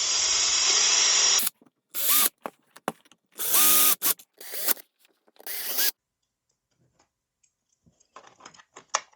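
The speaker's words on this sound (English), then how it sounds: "I'm just going to drill these holes." A power drill with a 7/64 inch bit bores small holes in plastic in several short, sharp bursts separated by silent pauses, loud and close, with faint clicking handling sounds at the end.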